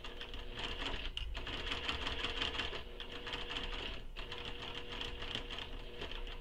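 A sewing machine stitches a curved U seam on a sling pack, a close, steady whirring hum that runs almost without break, with a brief pause partway through.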